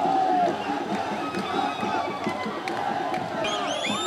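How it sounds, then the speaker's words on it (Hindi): Dense crowd noise at a political rally with women taking part, a steady babble of many voices with a few whistles and shouts rising near the end, close and continuous. "अब भीड़ भड़ाका तो काफ़ी ज़्यादा है"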